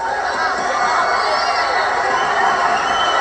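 Unruly crowd at a 1980s wrestling arena during a brawl involving Abdullah the Butcher and Brody, a dense, loud, continuous wall of shouting and cheering voices close around.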